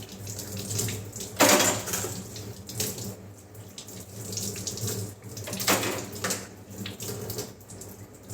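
Water runs steadily from a kitchen tap while dishes are washed, a continuous splashing stream with a few louder gushes and clatters as items pass under it; no one speaks.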